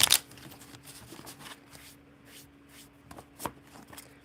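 A tarot card deck is shuffled quietly, with soft papery riffles and a few sharper snaps spread over a few seconds in a quiet room.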